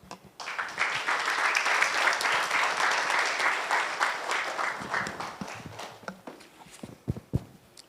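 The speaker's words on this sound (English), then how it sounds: "I think they deserve a bigger round of applause, please." Strong applause from a conference audience builds quickly into a sustained roar of many hands, then breaks up into scattered, uneven individual claps before dying away.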